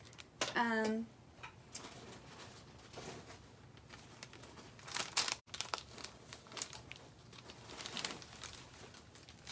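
A plastic bag of ribbon pieces crinkles and rustles in irregular bursts, close and fairly soft, after a short tonal chirp at the start, with faint handling noises between.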